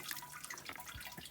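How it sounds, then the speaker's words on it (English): About four litres of water pour from a jug onto brewing grains in a home brewing vessel, a faint, close, continuous trickling and splashing with light dripping and no talk. "So I've got around about 4 litres in this jug. Pour it in. Let that soak through the grains."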